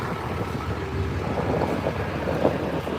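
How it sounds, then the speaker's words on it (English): Wind blowing hard across a microphone outdoors, a steady loud rumbling buffet with gusty swells throughout and no talking. "Oh, it's windy, unfortunately."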